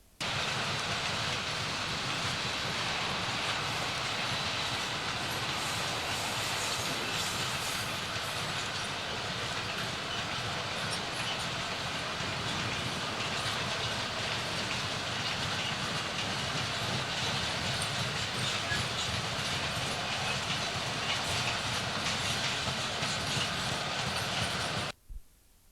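Coal train from the Doncaster direction rolling through a junction towards Maltby signal box on the Harworth branch, a loud, continuous rumble with wagon clatter sustained throughout before cutting off abruptly at the end.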